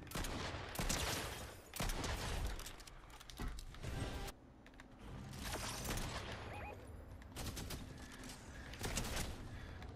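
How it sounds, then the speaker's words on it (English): Gunfire in the video game Fortnite, heard as dense, rapid bursts of shots and crackling fusillades. Louder volleys come in several clusters over busy game background noise, quiet overall. "I'm shooting him."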